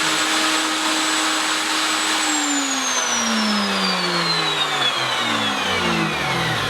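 A Triton TWX7 workcentre machine running steadily and loudly, with a motor whine whose pitch slowly falls across the whole clip as it winds along, heard close and with no talk.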